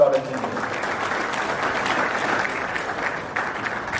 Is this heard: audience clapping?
yes